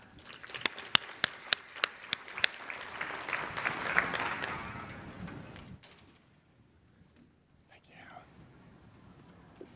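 An audience applauds to welcome a speaker, Dr. Isakoff, at a breast cancer medical talk: sharp individual claps at first, then a swelling wash of applause that fades out, followed by a quiet voice.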